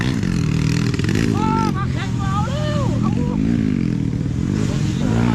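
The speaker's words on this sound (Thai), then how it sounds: "ฟังจากเสียงรถเปิดมาไม่เต็มครับ" A Super Cub-class enduro motorcycle engine drones loudly and continuously with rising and falling revs, mixed with crowd babble and a commentator's voice over the top throughout.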